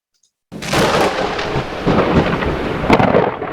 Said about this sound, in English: A supercell storm.